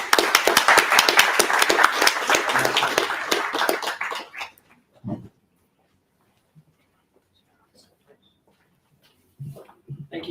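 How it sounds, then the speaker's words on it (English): An audience at a data engineering meetup gives a round of applause, a dense burst of clapping for about four seconds that fades out, followed by near silence with a few faint scattered knocks and rustles. "round of applause"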